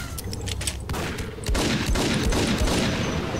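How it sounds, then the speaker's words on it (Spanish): Gunfire in the video game Max Payne, a dense burst of several shots fired close together with loud, sharp reports and a heavier, louder stretch in the second half, no talk. "son dos, he escuchado dos tiros diferentes"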